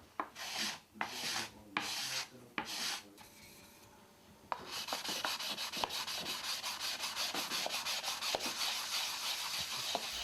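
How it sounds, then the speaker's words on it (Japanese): Wet-sanding of urushi lacquerware with a water-soaked whetstone: rhythmic rubbing strokes, first a few slow separate passes, then a dense, continuous fast back-and-forth scraping, close and clear. "水で濡らした器を水で濡らした砥石で研ぐ水研ぎという研ぎ方です。"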